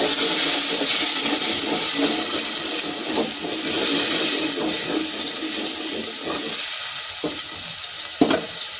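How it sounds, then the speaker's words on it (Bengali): Water splashes and sizzles into a hot pan of browned beef liver and chana dal, a steady hissing with some stirring clatter, ending in a few sharp clicks. "এখানে একটু পানি দিয়ে নেব, অল্প একটু পানি"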